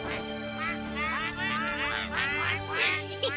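Cartoon ducks quacking in a sturdy nest: a rapid run of bright, nasal quacks, loud and close, over light background music.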